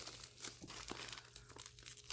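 A crinkly plastic diamond painting package is handled and opened up close, with steady crackling and crumpling rustles running for about two seconds without a break.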